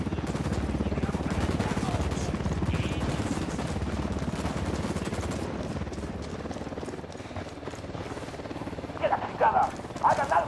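Helicopter in the video game Ghost Recon Wildlands, a steady rotor drone held low in the mix beneath bursts of game gunfire, with faint voices surfacing near the end.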